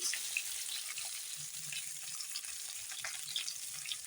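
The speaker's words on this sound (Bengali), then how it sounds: "সবগুলো আলু দিয়ে দিলাম এখন ভালো করে ভেজে নিই" Potato pieces frying in a pan of oil, a soft, fairly faint continuous sizzle with light crackles, no voices heard.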